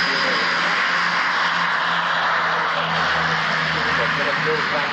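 Fokker F27 airliner flying a low display at the 1995 Biggin Hill Battle of Britain airshow, a steady loud engine roar filling the whole clip, with a commentator talking over it throughout.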